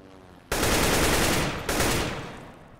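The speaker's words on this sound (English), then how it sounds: "So let's see how the first 10 shots line up." A sustained burst of automatic rifle fire in CS:GO, loud and continuous for about a second, then a brief break and a second rapid burst that trails off, with no talking over it.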